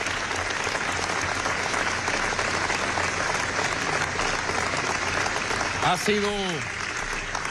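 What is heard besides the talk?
audience applause for the people of Iran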